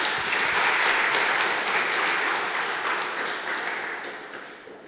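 Audience applause at a young physicists' tournament finals ceremony, a steady wash of many hands clapping that slowly fades toward the end.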